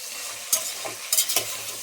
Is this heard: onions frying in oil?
yes